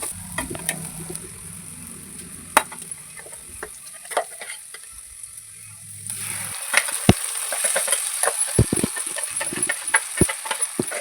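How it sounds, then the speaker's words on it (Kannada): Onions and ground masala frying in a pan for a bitter gourd masala curry, a steady close sizzle with scattered crackles and spatula scrapes, growing louder and busier partway through, with no talking. "ಈರುಳ್ಳಿನ ಸ್ವಲ್ಪ ಫ್ರೈ ಮಾಡ್ಕೋಬೇಕು"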